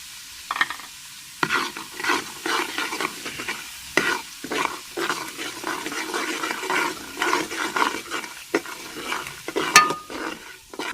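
A spoon scrapes and stirs 50 grams of semolina roasting in hot oil with cardamom for egg halwa: continuous close scraping strokes over a soft sizzle, with an occasional sharp clink against the pot.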